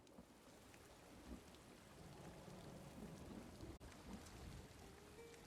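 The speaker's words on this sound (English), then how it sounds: "As they sail into a thunderstorm." A thunderstorm in the video game ESO at sea, with a dense, steady wash of rain and low rumbling thunder continuing throughout, no voices.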